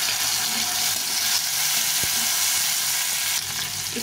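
A large, slightly unripe tomato sizzles as it fries with onions in a pan, giving a steady hissing crackle. One brief knock comes midway through, and no one speaks.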